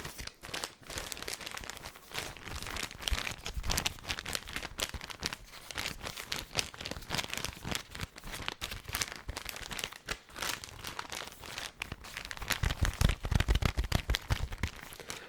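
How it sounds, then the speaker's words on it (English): Close, continuous crinkling of a pile of plastic and paper rubbish, dense crackles and rustles with a few louder crunches, no voice. "I'm not personally into crinkling sounds too much myself"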